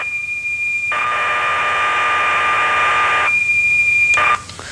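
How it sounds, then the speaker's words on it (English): A Micro 01 computer program loads as audio tones: a loud steady electronic tone holds, then breaks into a harsh buzzing data screech for a couple of seconds before the whistle returns and cuts off. "The program is in fact stored as a set of audio tones or whistles."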